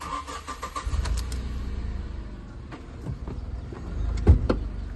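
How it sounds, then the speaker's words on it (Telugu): Petrol engine of a 2019 Tata Nexon XE with 60,000 km, idling close by as a low steady rumble with a few clicks and knocks from the car, and no talk. "ఒక్కసారి ఇంజన్ సౌండ్ చూడండి."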